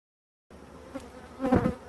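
Honey bees buzz at a beehive, a soft steady drone that swells louder near the end of a short moment, with no voices.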